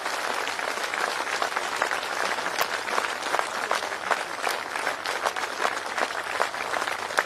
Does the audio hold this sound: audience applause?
yes